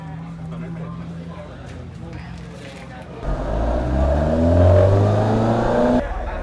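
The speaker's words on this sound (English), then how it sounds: "The 155 Silverstone, one of the legendary touring cars of the 90s" A 1990s Alfa Romeo 155 Silverstone touring car pulls out onto a circuit, its engine swelling from a low idle into a loud, rising rev with climbing harmonic tones, close by, with voices talking faintly in the background.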